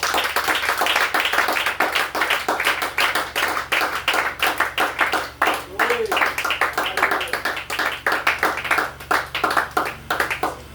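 A church congregation claps in steady, rhythmic praise during a worship service, many hands beating together loudly for the whole stretch, with voices mixed in underneath.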